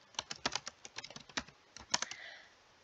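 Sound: computer keyboard typing

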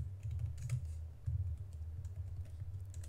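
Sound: typing Go code on a computer keyboard

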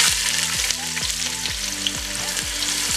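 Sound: sliced onions frying with whole spices

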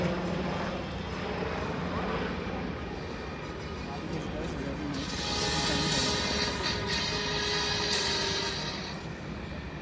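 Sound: HAL light combat helicopter flying display

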